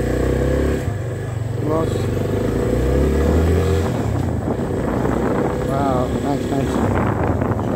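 A Yamaha FZ25 motorcycle fitted with a handlebar raiser runs its engine at a steady, continuous idle close by, while people talk over it throughout.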